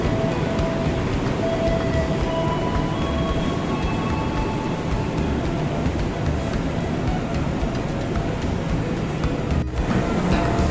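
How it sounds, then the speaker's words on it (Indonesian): Singasari train pulling out of track 1 toward Blitar, behind a CC 206 locomotive, a loud continuous rumble of wheels and engine with faint high squeals, no voices. "Jalur 1 Singasari berangkat menuju ke arah Blitar."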